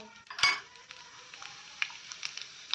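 Mustard seeds and cumin sizzle in hot oil as the tempering for lasuni methi, with faint crackling pops over a soft hiss, a sharp metallic clink of a spoon against the pan early on, and scattered small clinks after.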